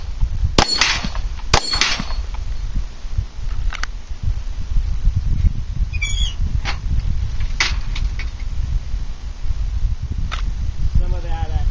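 Glock 19 Gen 4 pistol being fired during a test, some of it with ammunition that caused problems before: sharp, spaced shots alone at moderate distance, with outdoor background noise between them.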